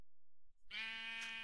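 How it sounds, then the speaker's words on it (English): A single sheep bleat from the video game Vinyl Fantasy 2, a clear, close, slightly wavering tonal call following a brief moment of silence. "Another sheep."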